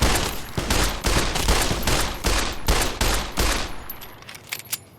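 Rapid bursts of gunfire from shooting in the video game Fallout New Vegas, a loud fusillade of repeated shots in quick rhythm that thins out and ends in a few scattered final shots.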